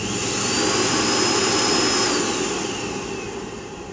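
A Miele S6220 Cat & Dog vacuum cleaner motor whirs up to a loud, steady roar with a high whine, then eases back slightly while still running.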